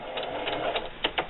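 A home sewing machine stitches a fabric holiday gift bag seam in short, fairly even mechanical bursts, close and moderately quiet, with no talking.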